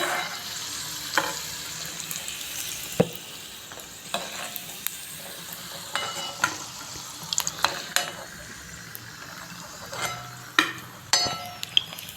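Egg 65 pieces fry in oil as they are turned, a soft continuous sizzle broken by sharp clicks and taps of a utensil against the pan, with no talking.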